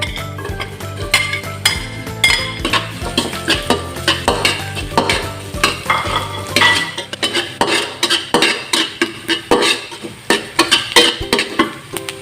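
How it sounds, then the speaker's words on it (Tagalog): Garlic and onion sautéing in oil for homemade fried rice, loud repeated spatula clinks and scrapes against the pan in a steady rhythm over a close sizzle. "igigisa na po natin itong ating bawang tsaka sibuyas"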